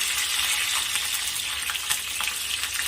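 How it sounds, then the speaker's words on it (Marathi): Green chilies fry in hot oil with a bright, steady sizzle and crackle. Faint stirring scrapes come through at close range, and no one speaks. "तेल तापलेलं आहे आता यामध्ये मी मिरची ॲड करते"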